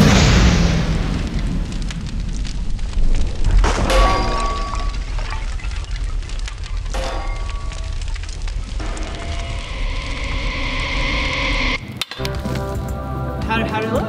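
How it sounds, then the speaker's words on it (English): Ice and fire being smashed, captured in slow motion: a dense, loud rumble of crashes and crackling bursts, with a sharp break near the end before the noisy roar resumes. "it felt so good to smash ice and fire"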